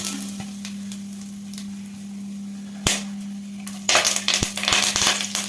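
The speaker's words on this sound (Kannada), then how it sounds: "ಸ್ವಲ್ಪ ಸಾಸಿವೆ ಒಗ್ಗರಣೆಗೆ ಹಾಕೋಣ." Mustard seeds sizzle in hot oil for a tempering over a low steady hum, with a sharp pop midway, then a burst of crackling and spattering near the end.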